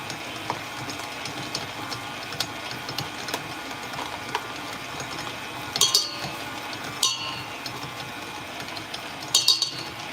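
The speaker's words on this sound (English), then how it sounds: "since I'm mixing with this chopstick, we're just gonna scrape any butter left behind" A chopstick scraping and stirring butter into bun dough in a bowl, a quiet steady scratching with a few sharper clinks against the bowl, close and alone.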